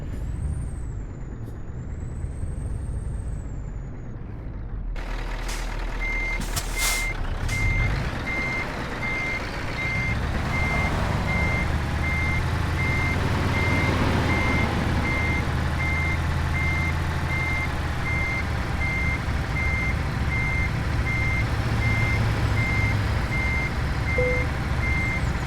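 A truck in Euro Truck Simulator 2 hisses its air brake, then its reversing alarm beeps in a steady evenly spaced series over a continuous low engine rumble, loud and close.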